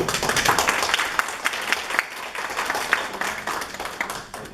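An audience at a Korean school principals' seminar applauds to welcome the Atlanta Korean Association president, a steady burst of clapping that thins toward the end.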